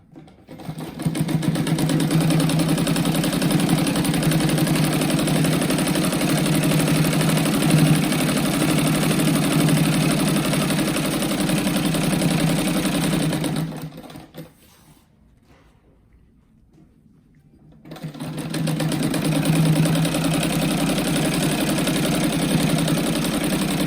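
A sewing machine runs a seam around the edge of a patchwork fabric rug, humming steadily and close for long stretches, pausing briefly in near silence, then starting up again at the same even pace.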